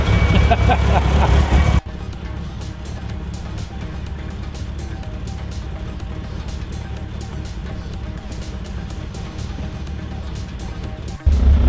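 A Mitsubishi Evo engine with a twin disc clutch rumbles steadily at idle, deep and throaty, after a brief louder burst at the start, with a sudden loud moment at the end.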